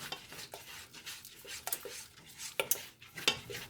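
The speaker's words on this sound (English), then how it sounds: "So I'm keeping a stir on it, keeping it from sticking to the bottom of the pot." A utensil stirs shrimp macaroni and cheese in a pot, giving soft scrapes and a few sharp metallic clinks against the pot, close by.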